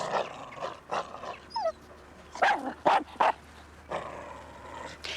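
A dog barks and whimpers in a handful of separate bursts, fairly close, with a yelping, whiny edge and short pauses between calls, set in an English country house.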